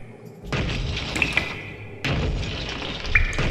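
Sledgehammer blows in a video game, two loud, heavy crashing impacts about one and a half seconds apart, each ringing on with debris-like rumble.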